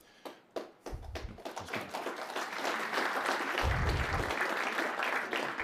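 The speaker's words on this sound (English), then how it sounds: "that was our Halifax area MPs who were applauding him first" Applause from a crowd of Halifax-area members of parliament at a Halifax event, beginning with a few scattered claps that quickly swell into sustained, fairly loud clapping that carries through to the end.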